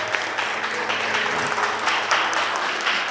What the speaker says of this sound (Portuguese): Você pode aplaudir a Jesus Cristo?